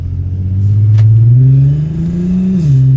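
A Volkswagen Golf MKV R32 engine revs up once, its deep growl rising in pitch, dipping, then climbing again, loud and close with no talk over it.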